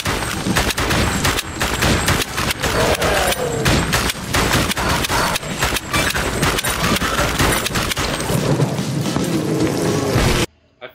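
A House of the Dead remake arcade shooter played with an arcade rifle accessory on Nintendo Switch gives dense, sustained gunfire and booming hits for about ten seconds, loud and relentless before cutting to silence.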